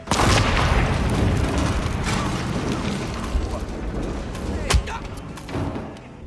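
Explosions boom and rumble on top of dense, noisy game sound in Hitman 3, with a sharper blast near the end before the noise settles down.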